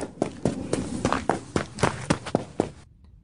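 A girl's quick running footsteps pound in a rapid, slightly uneven rhythm, about a dozen close, sharp impacts over a few seconds before stopping.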